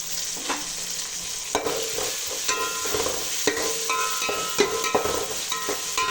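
Tomatoes being stirred into a hot pan while making carrot rice: a steady sizzle of frying runs throughout, with repeated scraping and clinking strokes of the spoon against the pan, close and moderately loud.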